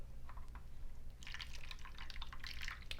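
Water being poured into an ice cube tray, a soft stream and splashy trickling that grows busier after the first second, steady and close, with no talk.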